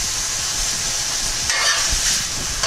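Sirloin steak stir fry sizzles loudly in a pan after teriyaki sauce is added, a dense steady crackle with a brief hissing surge midway and faint scraping.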